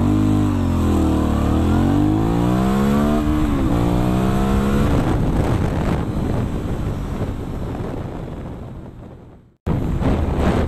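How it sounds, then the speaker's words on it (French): An Aprilia Shiver 900 motorcycle launches from a standstill and accelerates to 100 km/h. The engine is loud and close, its revs climbing and dropping through several gear changes, with growing wind rush before the sound cuts out abruptly near the end. "C'est un vrai plaisir d'entendre les pots derrière qui s'expriment quand je tire la poignée des gaz"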